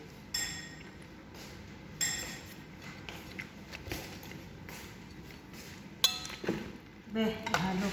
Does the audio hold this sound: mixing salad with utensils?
yes